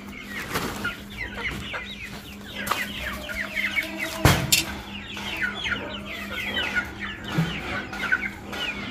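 Farmyard chickens cluck busily while being fed bran, many overlapping short clucks and squawks close by, with occasional clatter and faint voices in the background.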